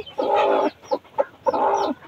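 A hen clucks loudly and close by as she is lifted from her newly hatched chicks: three sharp, agitated bursts with brief pauses between them.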